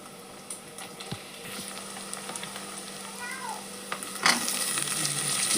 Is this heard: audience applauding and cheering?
no